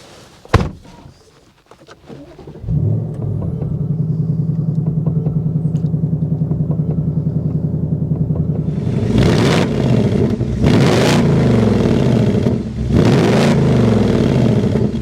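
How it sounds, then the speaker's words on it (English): A 2024 Ford Mustang GT Premium with a fourth-generation Coyote V8 starts after a door thunk, settles into a loud, steady rumbling idle, then its exhaust barks through several sharp revs close by. "We need to go inside, start it up, so you can hear that exhaust now."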